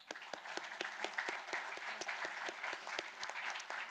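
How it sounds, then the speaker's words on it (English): A conference audience at a session on battery passports applauds its speakers; distinct, crisp claps fall in a quick, fairly regular patter, faint and somewhat distant, with no talking. "a word of applause for our speakers"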